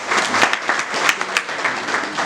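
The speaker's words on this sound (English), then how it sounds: "Let's clap hands for it." A school audience at a high school awareness campaign claps hands together, a fairly soft, even patter of many hands with a few sharper claps standing out.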